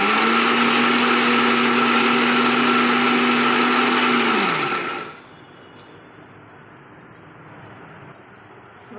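A mixer grinder blends coriander leaves, cumin and cashews into a paste, running as a loud, steady motor whine for about five seconds before it winds down and cuts out to a quiet room.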